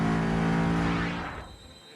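A GT3 race car on the Kyalami Grand Prix circuit, its engine droning loud and steady with strong harmonic tones, then fading away over the last half second as it recedes.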